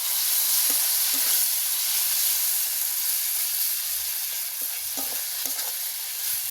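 Vegetables sizzle and hiss in hot rendered goat fat while a utensil stirs the pan, with a steady loud frying hiss broken by occasional scraping clinks and no talk.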